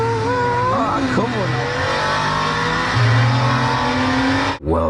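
Cars at the Nürburgring Touristenfahrten public drive: loud, continuous engines revving and accelerating up and down close by, with tire squeal and passing vehicles in a noisy open-air setting.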